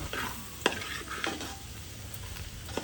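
A spoon stirs spices and coriander powder through a pan of tamarind-based pulusu, making a few distinct scraping strokes over a faint, quiet sizzle.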